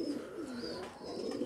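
Pigeon coos from a breeding pair, a silver-and-yellow cross kept on a pigeon farm in Faisalabad, come as a soft, steady, rolling low call held close by across the short moment, with faint chirps above.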